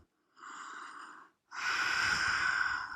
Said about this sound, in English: Deep inhales and exhales here.